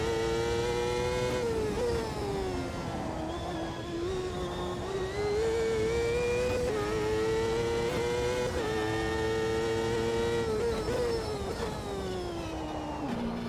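A race car engine in the sim racing game Automobilista 2 drones loud and close, its pitch climbing through the revs and dropping sharply at each gear shift in a repeating rise-and-fall pattern.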